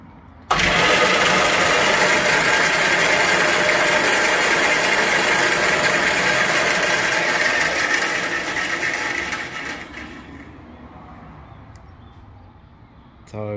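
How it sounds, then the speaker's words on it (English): A newly reassembled bandsaw with its blade scraping along a small plastic housing. It starts abruptly into a loud, steady whirring rush, runs for about ten seconds, then winds down and fades. "You can definitely hear the blade sort of scraping its way along that little plastic housing though"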